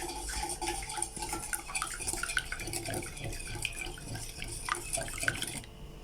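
Eggs and vanilla essence are whisked together in a bowl for oat and banana muffin batter, a close, steady wet stirring with frequent light clinks of utensil against the bowl.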